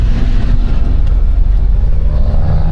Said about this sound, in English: that's an old truck, boy, but it's moving